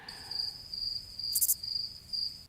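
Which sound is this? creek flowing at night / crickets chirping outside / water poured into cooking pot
crickets chirping outside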